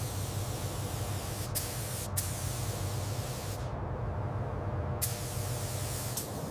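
Spray gun laying clear coat on a 1959 Cadillac Eldorado Biarritz body in wood rose pink, a steady close hiss that runs the whole time with brief breaks in the spray.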